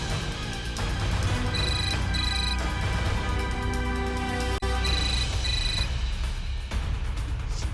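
A telephone rings in repeated electronic tones in a tense scene from a TV serial, two ringing phrases sounding over a loud, dense musical background.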